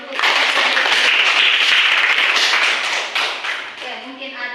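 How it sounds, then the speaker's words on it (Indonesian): Audience applause after a classroom presentation, dense steady clapping from a group close by, fading out toward the end with a few scattered claps. "kita beri tepuk tangan dulu untuk"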